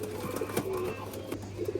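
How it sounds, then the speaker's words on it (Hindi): A pigeon coos softly in short, repeated low phrases, close by and alone, with a faint steady hum underneath. "ये कबूतर है भाई"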